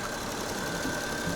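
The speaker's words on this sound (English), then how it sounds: "the engine is running now" A Peugeot 407 V6 engine running steadily at idle, with an even, continuous hum and a faint sustained whine, close and alone without talk.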